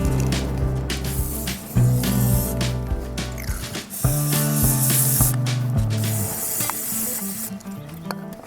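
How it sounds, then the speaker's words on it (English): A can sprays chain lube in bursts onto a motorcycle chain as the rear wheel is turned, so ratcheting, clicking mechanical sounds run under a hissing spray. The sound is close and clear, and no one talks. "And then I give the chain a good spray with chain lube."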